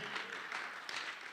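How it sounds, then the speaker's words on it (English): Church congregation applauding a young man called up front during a sermon, a soft, fairly distant wash of clapping without voices that stays steady and brief. "Give him a round of applause, guys."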